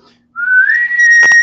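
Someone whistles in imitation of a boatswain's pipe call, a loud, close tone that slides upward and then holds steady, broken briefly by a couple of clicks near the end.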